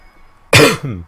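A single close, sharp cough after a brief quiet moment, followed by a short rasping tail.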